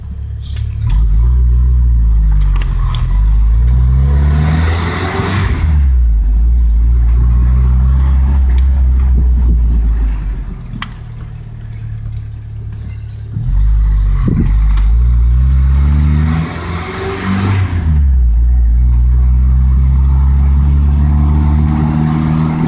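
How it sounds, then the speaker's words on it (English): A Jeep drives off-road across a field, its engine loud and close, revving up and easing off in repeated waves as it picks up speed, then dips briefly before climbing again. "My dad's driving us there."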